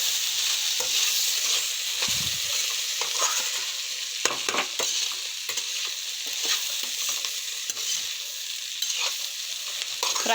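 A mixture of green peas and pea peels frying in a pan, a loud, dense, continuous sizzle with occasional stirring scrapes, close up and without voices.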